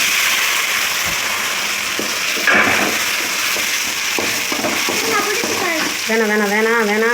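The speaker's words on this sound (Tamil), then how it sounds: "கட் பண்ணி வச்சுக்கிற வெங்காயத்தை போட்டுக்கலாம். ஓகே, அதை பற்றி கிண்டிக்கலாம்." Chopped onions sizzle and sauté in a pan for a chicken curry, with intermittent scraping of a stirring spoon and a voice speaking over the steady hiss.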